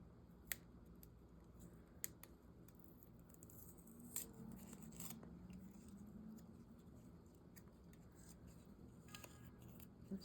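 Scissors trimming a paper puzzle piece: a few crisp, close snips spaced over several seconds against a quiet steady hiss, with a faint cluster of cuts in the middle.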